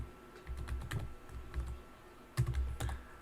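Computer keyboard keys tapped while entering a password on a Mitel EX controller server setup, a few quiet separate clicks and short bursts, close and alone.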